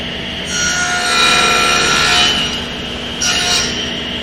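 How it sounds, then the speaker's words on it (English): A table saw cuts a kerf through a wooden miter joint for a spline on a shadow box. A high, steady whine swells into a long cut of about two seconds, then a brief second pass follows. "make a kerf cut through that miter joint"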